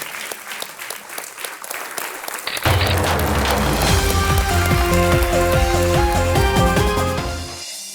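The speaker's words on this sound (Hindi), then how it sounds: "तालियां बजती रहें योगेश जी के लिए" Loud, dense applause erupts suddenly from a large TV quiz show studio audience with bright music playing over it, then fades at the end.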